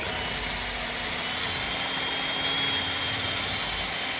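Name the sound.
power drill drilling pilot hole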